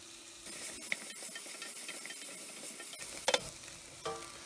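Vegetables including onions sweating in a pan for a velouté, giving a continuous close sizzle with a few sharp utensil clicks and scrapes, steady and moderately quiet with no voices.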